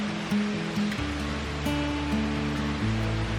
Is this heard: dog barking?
no